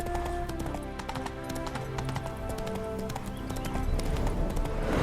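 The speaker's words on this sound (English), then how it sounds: "Spooking my horse. Roach doesn't like ghosts." Roach, a horse in The Witcher 3 video game, clip-clops with rapid, steady hoofbeats up close, punctuated by a neigh, the sound building louder toward the end.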